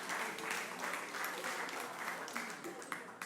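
Audience members at a story night in Bremerton, Washington applaud a storyteller, a continuous patter of many hands clapping at moderate volume.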